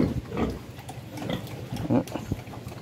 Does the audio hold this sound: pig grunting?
yes